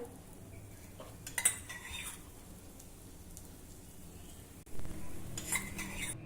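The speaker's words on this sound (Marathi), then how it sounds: "उरलेले शेंगा देखील याच प्रकारे आपण तव्यावर भाजून घेऊ" Drumstick (moringa) pods roasting with a little oil on a tawa give a faint, steady sizzle, with a few sharp clinks of a utensil against the pan.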